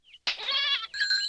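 Goats bleating on an alpine farm in an animated series, a brief call followed by a loud, wavering bleat and a second higher bleat, close and clear with no talk.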